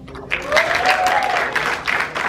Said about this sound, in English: give you guys yourselves a round of applause